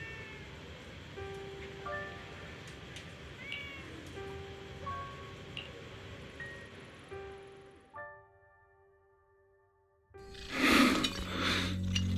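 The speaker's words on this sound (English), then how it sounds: "Oh, there's a cat over there." A cat meows several times in the video game Zenless Zone Zero, short tonal calls over a soft ambient music bed, followed by a pause and then a brighter burst of game sound effects.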